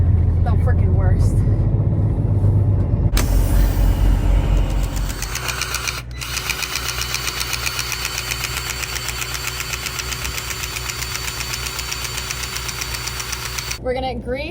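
A Cummins ISX engine in a truck during corn harvest runs under throttle with a heavy, steady low drone and a knocking rumble, loud and close, with a voice over it early on.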